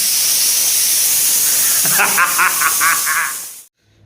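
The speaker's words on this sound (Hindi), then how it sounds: "कुकर भी हमारे सीटी देता।" A steady loud hiss of escaping steam from a pressure cooker fills the clip, then a brief warbling whistle-like burst of pulses before it cuts off abruptly.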